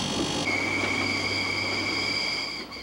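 A train runs on the railway around Mount Etna in Sicily, a steady, fairly distant rolling rumble with sustained high wheel squeal and no voices.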